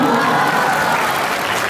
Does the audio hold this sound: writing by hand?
no